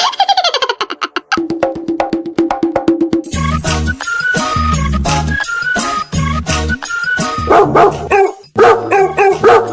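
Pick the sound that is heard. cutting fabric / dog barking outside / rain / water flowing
dog barking outside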